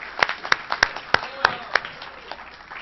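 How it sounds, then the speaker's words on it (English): A sparse handful of audience members clap for a guest at a Rotary club meeting, with about seven distinct, fairly loud claps spaced unevenly across a few seconds rather than a full burst of applause. "how about a round of applause for Brutus?"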